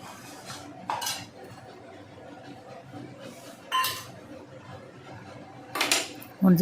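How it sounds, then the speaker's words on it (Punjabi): A metal spoon stirs a spiced salt, chili and turmeric liquid for a carrot, cauliflower and turnip pickle in a pot, giving several separate clinks and scrapes against the pot, with a voice faintly present. "ਇਸ ਨੂੰ ਵੀ ਚੰਗੀ ਤਰ੍ਹਾਂ ਹਿਲਾਓ"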